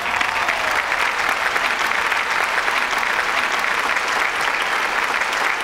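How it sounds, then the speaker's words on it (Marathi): Steady, vigorous applause from a Marathi comedy show audience honoring Viju Mama, a thick continuous roar of many clapping hands, close and loud, running unbroken for several seconds with no speech. "याच्या दुप्पट टाळ्या आपण विजू मामासाठी पण वाजवूया."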